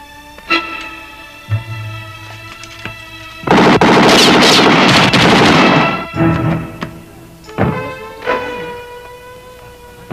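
Gunfire in an action film erupts as a sustained burst of rapid shots lasting a couple of seconds, flanked by sharp single reports and sparse tonal music, loud and close.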